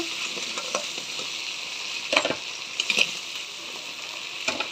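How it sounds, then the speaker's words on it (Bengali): Crabs fry in hot oil in a pan, a steady crackling sizzle broken by louder spatters and the scrape of stirring, close and without talk. "ভালো করে ভাজি ভাজি করে নেব কাঁকড়াগুলো"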